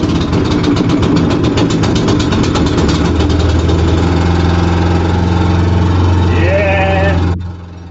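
Small pull-start engine running at idle after starting, a loud, close, steady mechanical putter with a rapid knocking rhythm that holds for about seven seconds before cutting out abruptly, with a voice speaking briefly over it.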